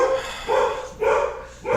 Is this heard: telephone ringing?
no